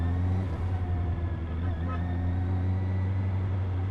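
A car engine holds a loud, steady drone close by under throttle, its deep hum barely changing pitch over a few seconds.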